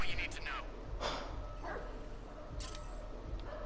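A dog barks and yips in the video game Watch Dogs 2. The short, mid-distance yelps come in a few bursts over steady game background noise.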